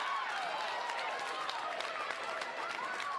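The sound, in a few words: rowdy crowd cheering at a volleyball match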